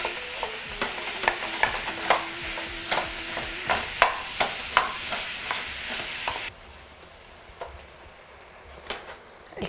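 Ground meat browning in a pan for Iraqi Mosul-style kibbeh, with repeated sharp scrapes and clicks of stirring over a steady close sizzle that drops to a quieter, softer fry partway through.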